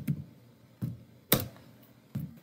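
A few isolated keystrokes on a computer keyboard, four separate clicks spaced out over a couple of seconds in a quiet room, one sharper and louder than the rest.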